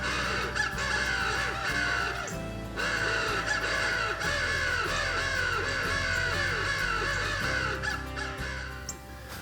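A crow caller set up in a cedar tree while hunting crows gives repeated raspy caw calls in quick bursts, steady and fairly loud through the whole stretch, with no talking.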